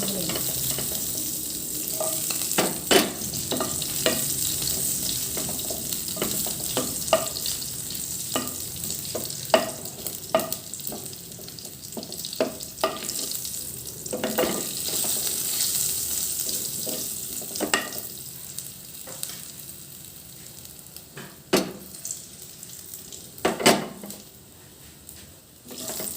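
Four or five garlic cloves fry in a pan until golden, a continuous close sizzle broken by frequent clicks and scrapes of stirring, with no talk.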